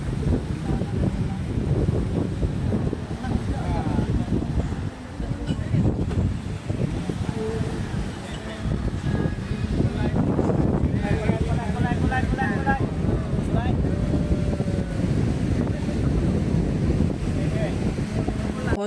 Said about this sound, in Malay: angin laut yang kuat